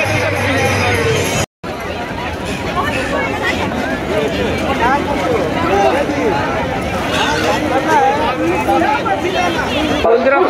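Dense crowd hubbub at the Maha Kumbh Mela in Prayagraj, a steady wash of many overlapping voices and movement, close and loud throughout, with a brief dropout near the start.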